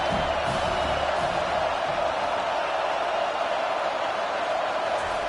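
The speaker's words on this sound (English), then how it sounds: "Big 3rd down as the crowd gets behind this defense." Football stadium crowd cheering for the defense on a big third down: a loud, steady roar of many voices fills the whole stretch without a break.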